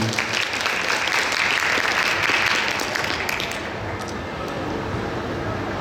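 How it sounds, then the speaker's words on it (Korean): Audience applause at a theatre talk concert for the play Bea, a loud, dense roar of clapping that holds steady and then eases slightly partway through, carrying on without any voices over it. "저희 박수로 청해 보도록 하겠습니다"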